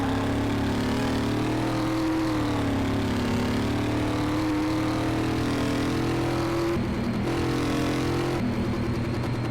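A car engine in the video game Car Mechanic Simulator drones loud and steady at top speed, pitch slowly rising and dipping, then briefly shifting near the end as if changing gear.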